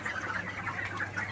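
Broiler chickens about 32 days old cluck steadily in a Kazi Farm contract broiler shed, a dense chorus of overlapping soft calls close by with no talking.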